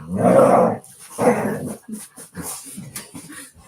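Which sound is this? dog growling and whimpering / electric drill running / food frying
dog growling and whimpering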